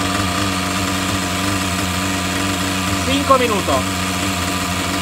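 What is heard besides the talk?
Hyper 7 Pro engine idling after carburetor adjustment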